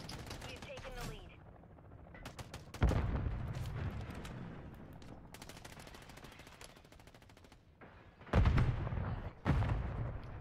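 Video game gunfire, including a sniper shot, with sharp loud shots and rapid bursts that cluster at two points, separated by quieter stretches of scattered distant shots and faint game ambience.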